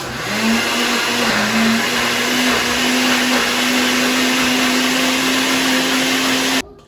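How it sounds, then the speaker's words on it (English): A kitchen blender motor whirs loudly and steadily for several seconds with a constant high hum, then cuts off abruptly. "I have my blender with the shortest cord in the world"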